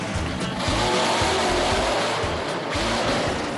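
A monster truck's engine roars as the driver floors the accelerator, loud surging bursts of revving and tire noise pulsing in repeated waves, close and without talk.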